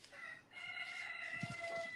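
A rooster crows faintly in the distance, its drawn-out call sitting low in the mix over a steady background hum.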